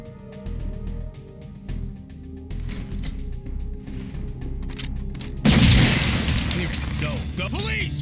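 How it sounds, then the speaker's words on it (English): A sting grenade detonates in the police tactical shooter SWAT 4, a sudden loud blast that follows ongoing game voices and background noise, then rings on with shouting and a lingering roar. "Use a sting grenade."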